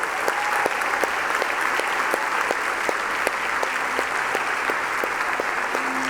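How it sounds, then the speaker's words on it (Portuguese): Loud, sustained applause fills a church conference hall as the congregation claps for Jesus, a thick continuous roar of hands with a few sharper claps and faint tonal sounds beneath, steady throughout. "Vamos dar uma salva de palmas a Jesus."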